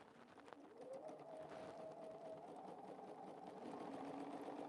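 A sewing machine test-sews after being cleaned, running in a steady continuous whir with a faint mechanical hum at moderate loudness, quiet and close in an indoor quilting setting.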